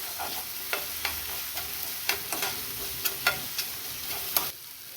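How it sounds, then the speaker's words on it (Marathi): Ground masala paste of whole spices, coconut, sesame and poppy seeds fries in a pan with a steady close sizzle, broken by sharp spatula scrapes and taps at uneven intervals. "तर त्या मसाल्याला पण फ्राय करून घेऊ."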